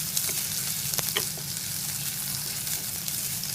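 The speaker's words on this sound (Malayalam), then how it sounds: "അടുത്തതായി ഒരു മീഡിയം സൈസുള്ള സവാള സ്ലൈസ് ചെയ്തത് കൂടെ ചേർക്കണം. നമുക്കിതിനെ നന്നായി വഴറ്റിയെടുക്കാം." Sliced onion sautéing in hot oil with mustard seeds and curry leaves for a Chettinad fish curry, a continuous close sizzle with occasional light pops and spatters as it is stirred.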